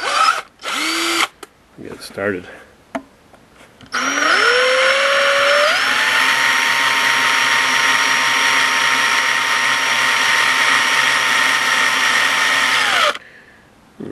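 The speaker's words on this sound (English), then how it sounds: "I'm drilling at an angle to try to get it centered" A power drill drilling metal on a floor sander whines at a high steady pitch for about nine seconds, spinning up and winding down, after a few short bursts and a brief spoken word.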